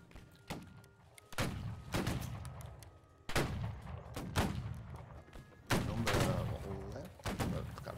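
Musket fire in the Battle Cry of Freedom video game sounds as a series of sharp, booming shots at irregular intervals, some near and loud, others more distant, each trailing a rumbling echo, with faint voices between.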